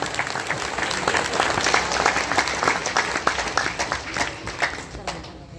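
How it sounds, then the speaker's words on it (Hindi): A large audience claps loudly and steadily at a Gita Jayanti spiritual discourse in a Delhi ashram, a dense, sustained wash of applause lasting several seconds with no pause. "जोरदार तालियां"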